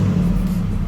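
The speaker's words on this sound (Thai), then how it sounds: "นี่คือเสียงท่อที่ ลูกค้าเปลี่ยนเป็นท่อไทเทนะคะ" A brief, loud burst of deep exhaust rumble from a Toyota Hilux Revo pickup with a titanium exhaust, close up and steady, with no talking.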